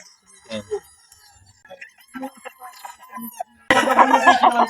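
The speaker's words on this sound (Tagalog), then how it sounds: "Ito rin mga manok." Chickens and roosters at a gamefowl farm give a burst of loud, close crowing and clucking near the end, after quieter stretches with sparse bird calls and someone talking.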